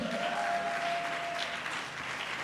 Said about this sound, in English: A round of applause for Jackie once again